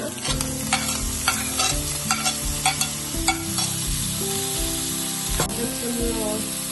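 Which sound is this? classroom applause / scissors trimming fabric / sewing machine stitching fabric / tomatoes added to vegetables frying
tomatoes added to vegetables frying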